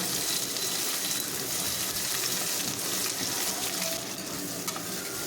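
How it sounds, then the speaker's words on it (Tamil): Fennel seeds, spices and long-sliced onions fry in hot oil in a pan, a steady dense sizzle with faint stirring scrapes, close and continuous with no talking. "பெருஞ்சீரகம் போட்டு நல்லா பொரியட்டும்"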